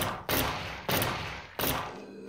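Gunfire rings out in a Gear VR zombie shooter game, three loud booming shots spaced roughly a second apart, each decaying with a long rumbling tail, close and without talking.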